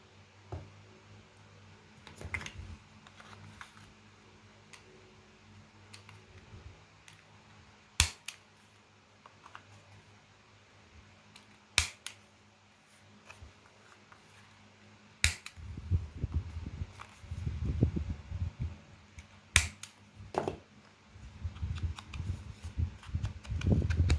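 A corner punch rounds the corners of a paper page for a botanical journal, giving four sharp, isolated clicks a few seconds apart in a quiet room, with soft paper rustling and handling noise toward the end.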